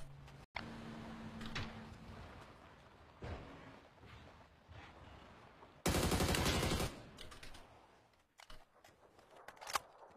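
Gunfire in a first-person shooter game: scattered sharp shots and a loud dense burst of rapid fire stand out from quieter game ambience, with a few isolated cracks near the end and almost no talk.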